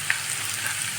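Onions fry in a pan for a Kerala beef and potato curry with coconut milk, giving a steady, close sizzle with a small pop near the start and no talking.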